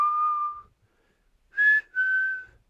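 Whistled melody from a song, a clear solo whistle of one held note, then a short pause and two more sustained notes, close and clean against silence.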